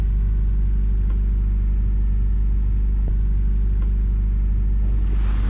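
A sailboat motoring under engine across the calm Alboran Sea gives a steady, loud low rumble with a constant drone and no talk.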